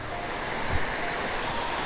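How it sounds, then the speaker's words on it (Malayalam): A modest waterfall at Kinnakoray, running low in the winter season, gives off a steady wash of falling water, fairly soft and constant, with some wind buffeting the microphone. "ഇത്രയും വെള്ളച്ചാട്ടം ഈ സമയത്ത് ഇവിടെ ഉണ്ട്"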